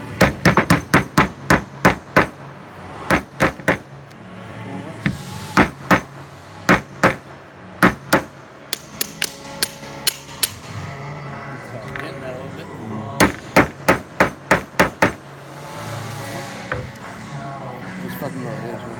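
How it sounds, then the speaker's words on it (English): A copper-head hammer strikes a hydraulic cylinder shaft to knock it loose in a shop, loud sharp metallic blows in rapid bursts of several hits with short pauses, and talk can be heard between the strikes. "this is a copperhead hammer, and it's made to mushroom out like that, so you can get like a good hit"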